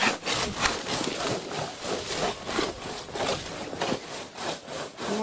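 A hand saw cutting through wood, its rhythmic back-and-forth rasping strokes loud and close, repeating steadily about twice a second with no talk.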